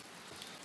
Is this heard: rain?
yes